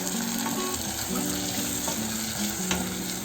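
Tomato frying in a pan for a green gram curry, a steady bright sizzle with light stirring scrapes running throughout, close and unbroken.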